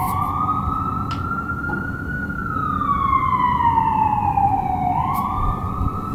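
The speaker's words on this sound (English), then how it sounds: "This window in particular faces a very busy road and it can get very loud" Sirens from an emergency vehicle wail and sweep up and down outside a thinly insulated New York City apartment window facing a busy road, over a steady, loud rumble of traffic.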